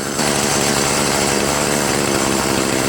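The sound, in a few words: Troy-Bilt TB70SS 33cc weed trimmer engine running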